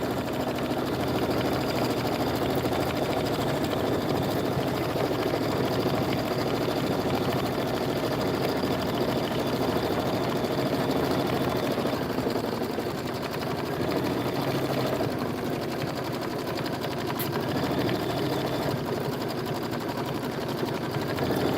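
Sewing machine quilting a Kimberbell mini quilt in an embroidery hoop, a continuous fast mechanical whir and needle chatter running steadily and loud throughout, with no talk.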